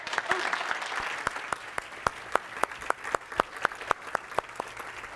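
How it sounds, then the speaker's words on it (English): An audience at a tapping session for pain relief gives a round of applause, brisk separate claps from a modest crowd at a steady, slightly uneven rhythm, fairly close and sustained. "A round of applause."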